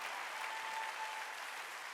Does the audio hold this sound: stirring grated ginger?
no